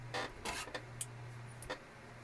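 Scissors snipping crochet yarn to fasten off a stitch, a few quick close crisp cuts and rustles over a faint low hum.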